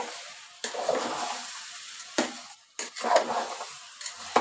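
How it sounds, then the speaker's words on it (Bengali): Rice being sautéed in a pan for rohu fish khichuri, soft sizzling broken by several sharp scrapes and clinks of a spoon stirring against the pot, moderately close with no talk. "চালটাও কিন্তু সুন্দর করে কষিয়ে নিতে হবে।"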